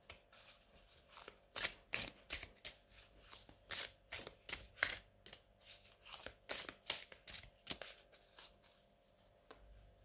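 Christmas oracle cards being shuffled and handled at close range: a steady run of rapid crisp riffles and flicks for about ten seconds, fairly quiet, with no one speaking.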